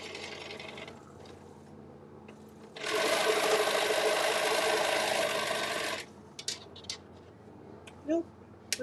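A Featherweight sewing machine runs in one steady, loud burst of stitching lasting about three seconds. Quieter handling and faint voices are heard before and after it.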